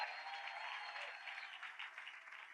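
A live show audience gives a round of applause to welcome a guest, steady dense clapping that fills the whole stretch at an even level without any voices.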